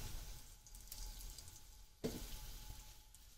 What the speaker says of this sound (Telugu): ఒకసారి ఈ జీరాను మనం వేయించుకుందాము.